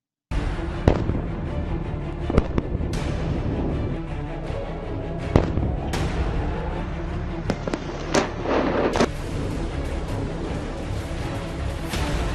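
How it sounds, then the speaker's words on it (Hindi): Artillery shells booming during a military ground report, a string of sharp, loud blasts scattered irregularly over a continuous rumbling background, some close and some more distant. "जैसे आप इन तोप के गोलों की गर्जना सुन रहे हैं"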